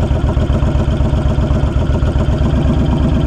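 A 2020 Honda Fury motorcycle engine idles close up with a steady, loud, even low-pitched chug, running alone with no speech.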